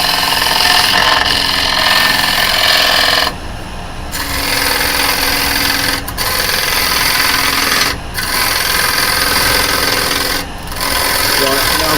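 A wood lathe runs loud and continuous as a tool cuts a large tenon on a spinning workpiece for a craft-fair turning, the rasping drone breaking off in several short pauses.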